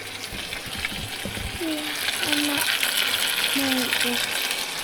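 Water poured into a pan of frying beef, onions and carrots for stew, a rushing sizzle and hiss that builds and lingers, with a person talking faintly underneath.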